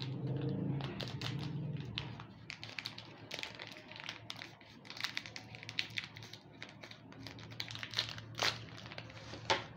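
A yeast (ragi) packet is snipped open with scissors, giving close, crisp crinkling and cutting sounds in short irregular bursts, with a low hum at the start.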